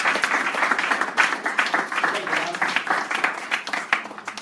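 Church congregation applauding during a sermon on wealth, a steady broad patter of many hands clapping with bursts and swells, moderately loud and continuous throughout.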